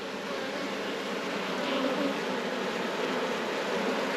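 British black bees hum in a steady, close swarm drone as frames of bees are shaken into a hive split, a continuous buzzing with no talk.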